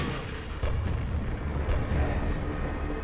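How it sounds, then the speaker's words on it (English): Heavy, rumbling blasts from a grenade launcher in the game Quake, a continuous low boom that swells at about half a second and again near the end, loud and close with no talk. "I don't know why I brought out the grenade launcher"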